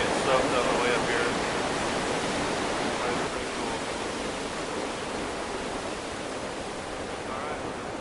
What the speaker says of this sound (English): there's another massive waterfall at the end of that